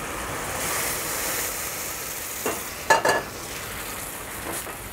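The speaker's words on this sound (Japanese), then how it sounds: "はい、野菜が炒まったのでここでマリネ液を加えます。" Vegetables stir-fried in a pan sizzle steadily as a marinade is poured in, giving a brief louder hiss and crackle near the three-second mark before settling back to an even fry, with no talk.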